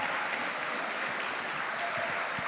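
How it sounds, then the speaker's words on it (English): Steady applause for primary school debaters at a debating championship, a continuous, moderately loud wash of clapping throughout with a few soft thumps near the end. "Give them both a big round of applause."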